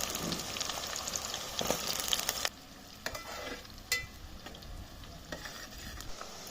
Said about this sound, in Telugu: పచ్చిమిరపకాయలు మంచి గోలంగానే ఉల్లిగడ్డలు వేసుకుందాం